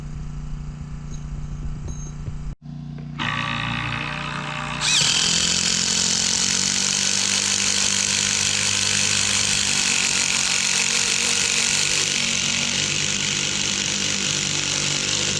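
DEWALT and RIDGID cordless impact drivers drive screws into fence boards. Close, loud motor whines and hammering buzz start and stop, then settle into one sustained, high-pitched run that lasts over ten seconds.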